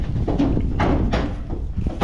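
A small door on a cow farm opens to let a dog out, giving a few dull knocking and scraping thumps at close range amid low background rumble.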